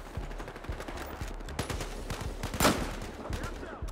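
Dense gunfire rattles through a Battlefield Hardline multiplayer match: rapid, overlapping shots and bursts, some near and some farther off, with a louder crack near the end.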